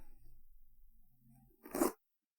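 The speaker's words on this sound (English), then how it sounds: "I wanted to sort of cut the tape" A blade slices through packing tape on a cardboard mail package in one short, close scraping tear near the end, after a stretch of quiet low rumble.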